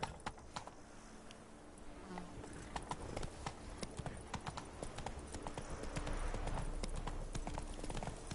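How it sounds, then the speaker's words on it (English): A horse gallops in the video game Witcher 3: Blood and Wine, its hooves clip-clopping in a fast, steady rhythm against a faint buzzing of insects in the background. "Whoa there, Roach. Faster."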